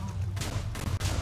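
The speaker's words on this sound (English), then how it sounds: "Oh, there it is. There's the explosion." Giant TNT explosion in Minecraft, a loud sustained rumbling blast with strong low-end roar and crackling bursts throughout, close and continuous without pause.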